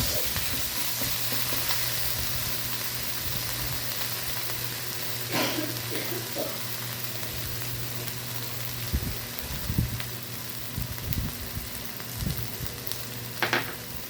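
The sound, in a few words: spice paste frying and stirred in a pan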